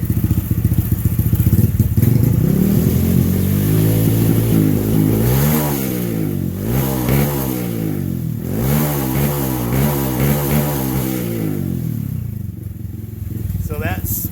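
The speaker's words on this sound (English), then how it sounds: "So that sputtering and popping, that's it doing that on its own. That's because it's running way too rich." A Honda Grom motorcycle engine, running too rich during tuning, revs and falls in wavering pitch sweeps, with irregular sputters and pops breaking through its close, loud drone.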